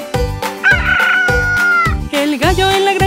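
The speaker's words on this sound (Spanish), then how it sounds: "Es solo un gallo." A rooster crows several times in a row, loud and close, each call a bright rising cock-a-doodle-doo with short gaps between, heard alone without talk.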